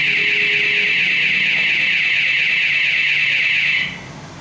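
Smart key security alarm buzzer sounding as a continuous loud high-pitched tone for about four seconds, then cutting off abruptly, leaving quiet background.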